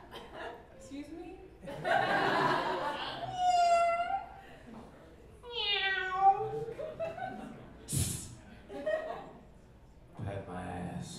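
A person imitates a cat meowing, producing several drawn-out, wavering meows mixed with chuckles and moaning sounds, with other voices talking in between.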